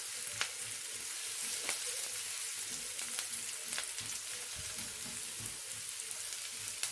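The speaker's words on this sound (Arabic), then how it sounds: "وانا بشوح البصلايه والثوم مع بعض" Onion and garlic sautéing together in a pan with little or no oil, a steady close sizzle with small crackles running throughout, no voices.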